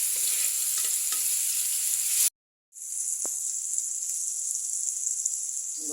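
Pieces of tilapia and pangas fish frying in hot oil, a steady high sizzle that cuts out briefly and then resumes with a soft clink of a utensil.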